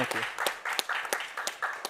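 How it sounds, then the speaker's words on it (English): A short round of applause for Miriam at a design thinking conference, a crowd clapping unevenly with sharp individual claps standing out. "let's give Miriam a big round of applause"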